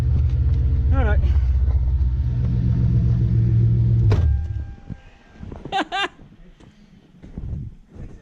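A car engine idles with a deep, steady low rumble for several seconds, then cuts out, leaving quieter background sounds while people talk nearby.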